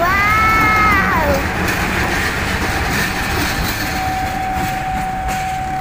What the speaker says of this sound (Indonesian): Lihat di depan kita ada kereta lokomotif vintage yang sebentar lagi akan berangkat membawa rangkaian Dharma Wangsa,